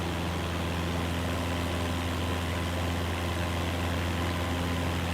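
Steady drone of a Beechcraft aircraft engine in Microsoft Flight Simulator 2024, a constant hum with a low tonal whine holding even and unbroken throughout, close and moderately loud with no speech.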